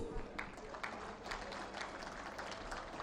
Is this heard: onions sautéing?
no